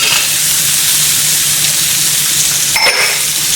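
Onions and celery sizzling loudly in a very hot pan, a dense continuous hiss close up, with a brief stirring scrape near the end.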